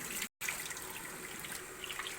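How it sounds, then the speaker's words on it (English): Rice being rinsed by hand in plain water at a kitchen sink, a steady close splashing and trickling wash broken by one brief silent gap, with no talking. "In normal water also you can wash it till all the dirt, all the white milky water disappears."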